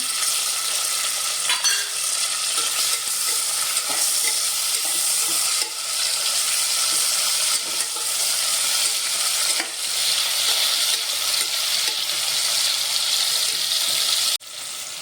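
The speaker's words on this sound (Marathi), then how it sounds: "खमंग वास सुटेपर्यंत भाजून घ्या टोमॅटो टाकूया आपण" Tomatoes frying for a hotel-style veg biryani hiss with a loud continuous sizzle in a pan while a spoon repeatedly scrapes and stirs them, close up and with no talking.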